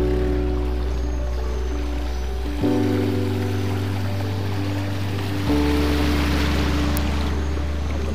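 Floodwater from the overflowing Telake river in Paser, Kalimantan, heard as a steady broadband rushing wash, with a low engine hum under it that shifts level twice.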